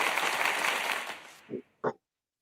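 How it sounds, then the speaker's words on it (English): Two short claps sound alone near the end, following a stretch of steady broadband noise that fades out, then silence. "I am attempting to clap my hands"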